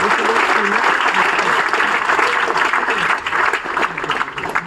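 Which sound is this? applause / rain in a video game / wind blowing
applause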